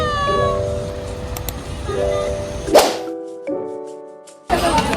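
A cat meows repeatedly, a few clear drawn-out cries close by, with a couple of sharp knocks and handling noises between them and no talk.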